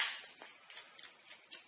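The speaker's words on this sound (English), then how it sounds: "So we'll give them a good shuffle." Challenge cards from the Bottom of the 9th baseball board game being shuffled by hand, a quiet series of soft rhythmic riffling swishes repeating every few tenths of a second, close and alone.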